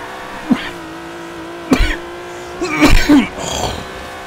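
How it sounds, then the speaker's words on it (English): A drift car in the Forza racing game, driven with a manual gearbox and clutch, gives a steady engine drone with a few sharp rev bursts and a squealing smear near the end, loud and close. "This thing is just such a beastly drift car."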